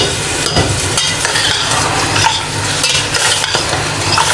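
Garlic-ginger paste fries in a pan for beef haleem, a loud crackling sizzle with spoon scrapes and stirring knocks repeating close by, and no talk.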